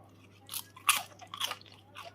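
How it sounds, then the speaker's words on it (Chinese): Crisp fried pastry with a spinach, egg and glass noodle filling is bitten and chewed up close, giving several distinct crunchy snaps spaced a fraction of a second apart in a quiet room. "外皮非常的酥脆，颜色金黄"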